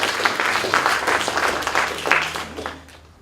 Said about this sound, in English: Okay, can we give them a round of applause?